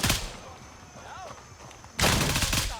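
Hip-fire gunshots in the tactical shooter video game Gray Zone Warfare come as a loud rapid burst at the start and another near the end, with a quieter stretch between them and a voice talking over it.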